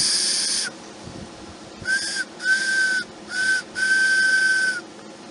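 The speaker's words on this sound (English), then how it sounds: "let's hold it together and see if we can make it whistle" A homemade wooden whistle sounds a breathy, steady tone, first in one long blow, then in several short and longer bursts, close and fairly loud.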